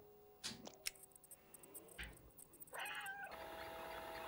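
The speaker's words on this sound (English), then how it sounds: "A little victory meow." Short meows from the orange stray cat in the game Stray, a few faint calls over quiet game ambience and small ticking effects, no talk.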